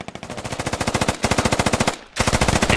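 Rapid automatic gunfire in the video game Squad rings out in long sustained bursts, close and loud, with a brief pause before the firing resumes.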